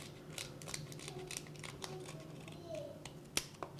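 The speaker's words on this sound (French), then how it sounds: "on prend le ciseau, on donne un premier coup ici, et après on l'arrondit" Scissors snip a lobster head, a series of quiet crisp clicks and cuts up close with a sharper final snip, under faint background noise.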